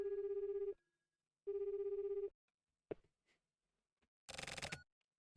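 A cell phone rings in the video game The Silver Case, two long electronic buzzing rings with a pause between them, followed by a few clicks and a short burst of static.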